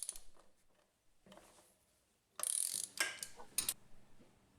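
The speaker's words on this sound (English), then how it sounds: "It's also easier to loosen the nuts on the rear sprocket before it comes off the bike." A hand tool loosens the rear sprocket nuts on a motorcycle: quiet clicks, then a loud close burst of metallic ratcheting and grinding followed by a few sharp clanks.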